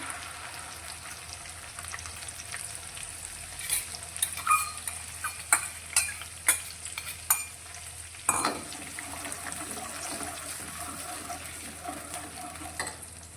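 Tomato puree from two medium tomatoes hits a hot kadai and sizzles softly, with a run of sharp stirring clacks and spatters in the middle over a steady low frying hiss.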